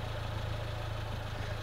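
A 1993 Suzuki Jimny Sierra Wide 1300cc idles through a noisy aftermarket exhaust, a faint, low, steady rumble with an even pulsing beat.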